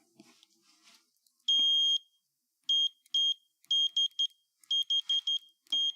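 Repeated electronic alarm beeps inside a garage where a 1987 Mazda RX-7 is getting an alternator upgrade, sounding in short tonal bursts, first one long beep, then clusters of rapid pairs, clear and fairly close with no talk over them.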